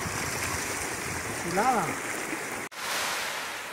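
Rushing water from a river waterfall and strong current, a steady broadband roar throughout, with a man's brief spoken remark partway and a short break near the end.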